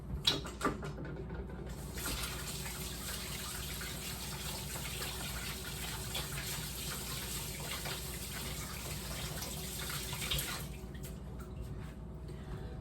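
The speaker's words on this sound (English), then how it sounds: "I'm gonna wash my hands really quick before I put that in." Hands washed under a running kitchen tap, a continuous splashing gush of water for around ten seconds with a few drips and clicks at the start and end, fairly quiet.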